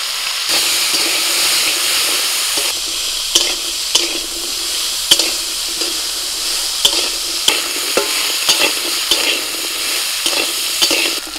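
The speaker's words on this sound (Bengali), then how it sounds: "ট্যাংরাগুলো ভাজা হয়ে গেছে।" Tangra fish frying in hot oil, a steady close sizzle and hiss running throughout with scattered sharp pops and spatters, no voices.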